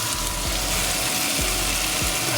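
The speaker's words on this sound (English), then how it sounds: "This just needs to be lightly fried." Food frying lightly in a pan gives a steady, loud, close broadband sizzle with no break, over faint low rhythmic ticks.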